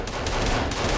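Automatic gunfire from a gun in the video game Sons of the Forest rattles loudly and continuously for a moment, dense and close with no pauses.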